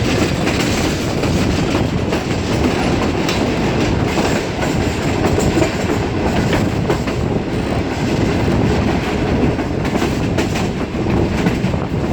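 Green Line Express passenger train running toward Lahore, heard as a loud, continuous rumble with steady clickety-clack of the wheels on the rails throughout, with no voices.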